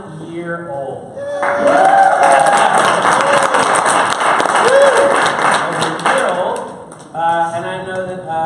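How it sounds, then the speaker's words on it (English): A meeting audience applauds in a sustained burst of many hands for several seconds, rising quickly and then tapering off, with voices calling and chattering before and after the clapping. "there's actually a legitimate reason to applaud too"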